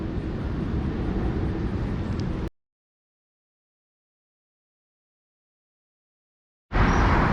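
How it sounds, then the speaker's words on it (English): A large airplane passes over a city canal trail, a broad loud roar that holds steady for about two and a half seconds, cuts to silence, then returns sharply near the end. "Big plane just came over."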